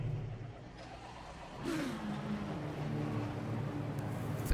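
Aston Martin 418 race car engine in a sim racing game, a mid-pitched engine note that rises as the car revs up partway through and then holds a steady drone, moderately quiet.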